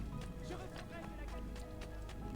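A horse gallops in the video game Assassin's Creed 2, its hoofbeats a quick, rhythmic run of clip-clops under game music and a steady hum, with a person talking over it.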